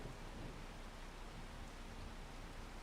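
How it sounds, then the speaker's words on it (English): Steady rain falls in the video game Farming Simulator 25, a soft, even hiss that stays faint and unbroken throughout, with no voices. "It's raining."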